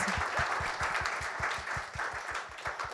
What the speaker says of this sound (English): A round of applause for the brand ambassadors.